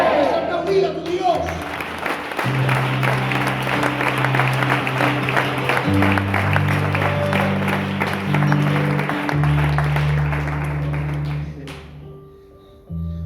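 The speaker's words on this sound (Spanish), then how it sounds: "Aplaudir a tu Dios." A congregation at an outdoor street preaching gathering in Plaza España claps together in praise. The clapping is steady and moderately loud and runs for over ten seconds over a low sustained musical backdrop.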